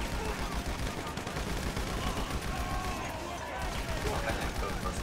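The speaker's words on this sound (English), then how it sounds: "Now open fire on everybody, Zach." Sustained automatic gunfire in GTA V Online during a Halloween night shootout at a graveyard, a dense continuous rattle of shots at moderate distance, with players talking over it.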